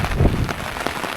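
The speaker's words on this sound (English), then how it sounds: "Look at the rain." Heavy rain pouring down at a beach bar in Puerto del Carmen, Lanzarote, a dense close-up hiss of drops on surfaces, steady throughout a brief moment.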